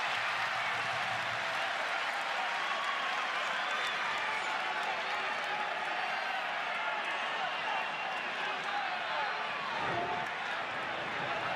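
A stadium crowd at a United States versus Panama Gold Cup football match roars in a dense, sustained wash of cheering and applause, with a commentator speaking over the noise.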